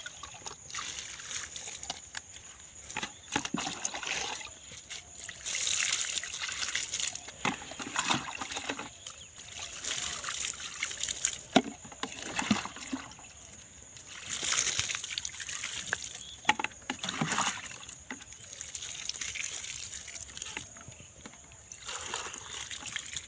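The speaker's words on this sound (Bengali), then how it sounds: "এরপরে আমি এখানে পুরোটা করে জল দিয়ে দেব।" Water poured onto pumpkin plants, a steady trickling and splashing that comes and goes in surges over a constant hiss, with no voices.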